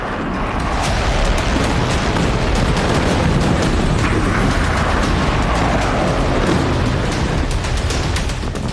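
Sustained roaring rumble of a heavy blast and fire after a drone crashed near a fuel tank by Dubai International Airport, loud and continuous broadband noise for several seconds with no distinct separate bangs.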